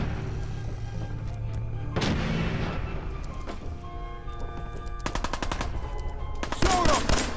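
Fallout 4 combat with a steady game soundtrack, broken by a sharp blast and then rapid bursts of automatic gunfire near the end, loud and close.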